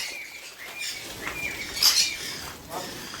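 A macaw calls in short bright bursts among other birds at an exotic pet and bird park in Wayanad, with a louder squawk midway, close by under ambient chatter and faint speech.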